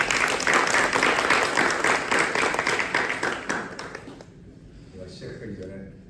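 Audience applause greets the incoming president of the Korean Society of Civil Engineers at a construction policy forum, a dense burst of clapping that fades over about four seconds before a voice begins to speak.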